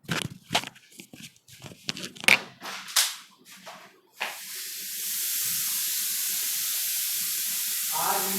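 Water runs from a tap in a steady, even rush that starts about halfway through, after a series of sharp knocks and clattering handling sounds close by.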